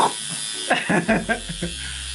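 A small electric eyebrow trimmer buzzes in short bursts, close up, with soft sounds of contact in between.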